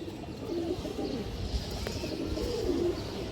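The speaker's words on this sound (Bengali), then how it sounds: "আপনার হারামি একটা নর কবুতর খরা গলা" A male pigeon coos in low, throaty rolls, two distinct calls near the start and end over a soft rustling background, close and fairly quiet.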